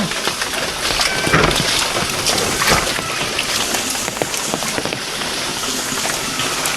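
Heavy monsoon rain pours down around a flooded home, a dense continuous hiss of drops beating on surfaces and water, steady and loud throughout, with no talking.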